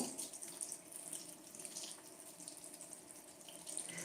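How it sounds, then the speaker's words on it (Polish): Water runs steadily from a sink tap at close range while someone washes their face, a continuous hiss with no talking. "zmyję moją buzię wodą"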